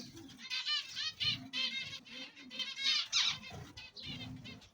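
Royal pigeons in an aviary: soft wing flutters and rustling bursts come in repeated close clusters, with low murmuring coos underneath, no voices.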